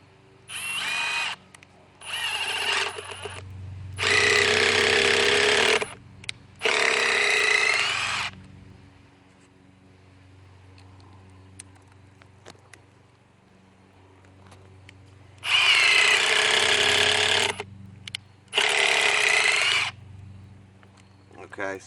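A Milwaukee M18 FUEL SURGE hydraulic pulse driver drives fasteners in several quick bursts, first two short, then two longer, a pause, then two more. Each burst is a loud, near, buzzing whir over a steady low background hum.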